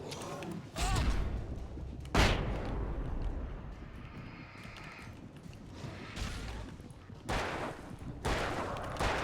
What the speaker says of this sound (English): I'm just gonna flashbang this mess.